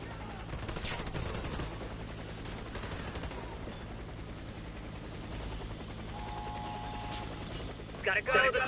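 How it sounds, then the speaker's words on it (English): Helicopter approaching in the Warface shooter game, a low droning rotor hum mixed with bursts of gunfire and mechanical clatter, fairly quiet overall with sharper clicks near the end. "Helicopter is inbound."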